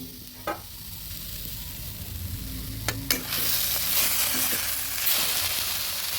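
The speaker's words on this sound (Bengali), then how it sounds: "বারবার করে ঢাকা তুলে নেড়ে দিচ্ছি।" A hilsa fish head and shola kochu taro sizzle in a frying pan while being stirred, with a few sharp scrapes and clinks early on, then a louder, fuller sizzle for the rest.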